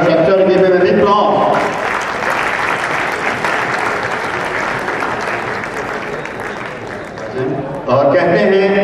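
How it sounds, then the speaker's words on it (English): An audience at a Rana convention applauds the founders of the Canada chapter, a loud, dense wash of clapping sustained for several seconds, with a voice speaking at the start and again as it fades. "Give them a big applause."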